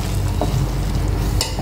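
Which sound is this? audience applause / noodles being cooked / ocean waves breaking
noodles being cooked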